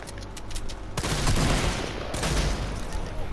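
Pump shotgun fire in a video game: a loud broadband blast near the one-second mark and another around two seconds, each followed by dense ringing gunfire and game noise.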